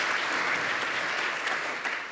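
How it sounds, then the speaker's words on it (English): Steady, full applause from a conference audience at a presentation on remote robotic surgery secured with 5G, a continuous wash of many hands clapping without letup. "I would like a round of applause for Nanoflex and for Christophe for that achievement"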